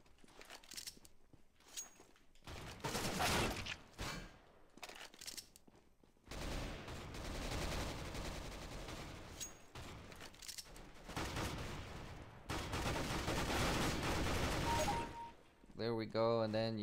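Dual Beretta pistols in Counter-Strike GO on PS3, rapid pistol fire in dense, sustained stretches amid game noise, with short quieter gaps and a voice speaking intermittently.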